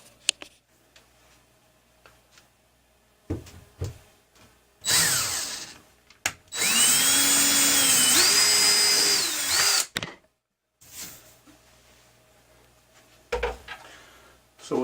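Power drill enlarging small shelf-pin holes in a wooden cabinet for brass support pins, a loud close whine in two long bursts with speed changes, framed by quiet clicks and handling noise.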